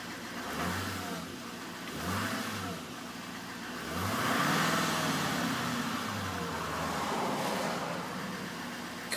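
A 2015 Chevrolet Silverado 2500HD Z71 with a 6.6 liter turbo diesel, hood open, runs with a low rumble and rises in several repeated throttle blips, one longer swell in the middle, recorded close with no talk.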